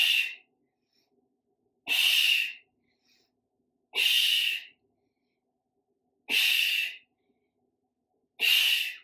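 Five sharp, forceful exhales through the nose and mouth during an arm and shoulder strength workout, each a breathy burst about two seconds apart, close to the microphone with silence between them.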